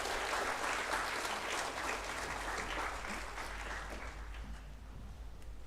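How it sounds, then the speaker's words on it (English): Sustained applause from a graduation and awards ceremony audience, steady and fairly loud throughout, with the dense clapping of a large crowd easing slightly toward the end. "let's clap for him nevertheless"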